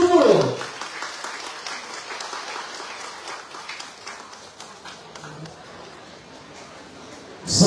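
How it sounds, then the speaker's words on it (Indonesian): Crowd applause at a political rally in Tungku, Lahad Datu rolls on as a steady, moderately loud clatter of many hands, slowly thinning, with a loud voice at the start and again at the end. "Mungkin tepukan yang paling gemuruh."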